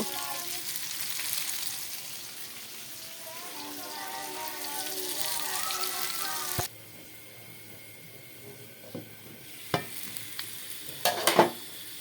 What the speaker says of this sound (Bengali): সবগুলো আলু বেগুন টমেটো এভাবে সুন্দর করে তেল দিয়ে ভেজে নিব